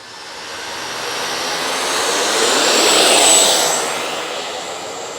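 An E-flite F-16 Thunderbirds 80mm electric ducted-fan RC jet takes off on its maiden flight with a loud, rushing whine. The sound swells to a peak as the jet passes, then eases off.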